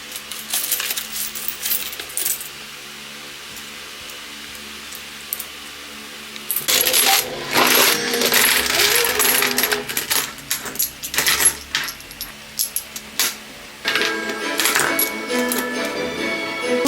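Coins from a jar clink and jingle as they are poured and handled, a steady stream of sharp metallic taps that grows busier and louder partway through.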